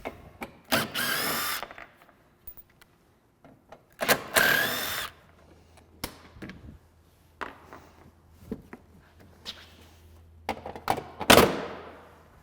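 Power tool removing six fasteners and two push darts from the front fascia of a Polaris RZR RS1, with several loud bursts of drilling separated by quieter clunks and handling noises, close by with no talk.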